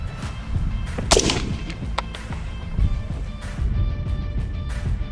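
Several sharp M16 rifle gunshot cracks ring out over steady outdoor background noise, with one loud report standing out near the start.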